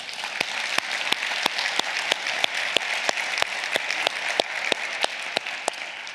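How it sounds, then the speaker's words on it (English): Sparse applause for a panel at a university COVID discussion event: a small audience claps in distinct, sharp strikes with a steady pulse, close and moderately loud, with no talking over it. "I want to first give a big round of applause to our panel."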